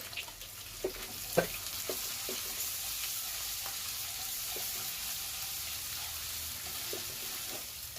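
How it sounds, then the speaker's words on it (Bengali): Sliced onions sizzle steadily in hot oil with a spoonful of ginger paste and garlic paste, with a few sharp stirring knocks and scrapes early on over a constant close frying hiss. "এক চামচ আদা বাটা রসুন বাটা দিয়ে দিলাম"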